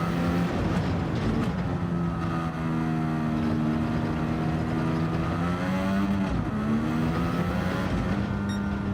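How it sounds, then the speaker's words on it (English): Gran Turismo 7 F1500T-A turbocharged single-seater accelerating hard, a loud, steady close engine drone with rising harmonics and a brief gear-change dip midway, heard alone without talk. "You put your foot down, it starts to go, and suddenly that turbo kicks in and it takes off again"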